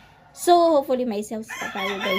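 Near a sari-sari store where many chickens are kept, a rooster crows loudly and close while fowl cluck, heard under a person speaking.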